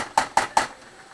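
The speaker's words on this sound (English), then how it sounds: "let's get our onions in there" Three quick metallic clanks in an even rhythm as onions go into a cooking pan for spicy venison with garbanzo beans, close and fairly loud, then quiet.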